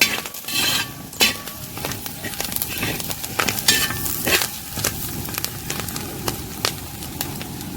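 Clam meat with curry leaves sizzles steadily in a pan while a utensil stirs and scrapes, sharp clinks against the metal recurring every second or so, close and without talk.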